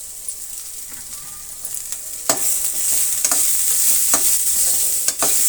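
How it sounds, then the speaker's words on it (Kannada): Onions fry with ginger and garlic paste in a pan, giving a steady close sizzle while a spoon scrapes and clinks in sharp strokes as the mix is stirred, with no talking. "ಈಗ ಈರುಳ್ಳಿ ಜೊತೆಗೆ ನಾನು ಶುಂಠಿ ಮತ್ತು ಬೆಳ್ಳುಳ್ಳಿ ಪೇಸ್ಟನ್ನು ಸೇರಿಸ್ತಾ ಇದ್ದೀನಿ."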